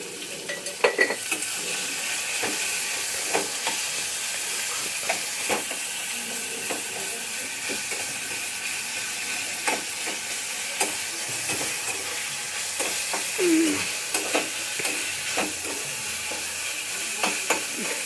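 Onion frying in a pan with turmeric and salt for masala dosa filling, a continuous close sizzle with repeated stirring scrapes and occasional clinks of a spoon against the pan, no talking.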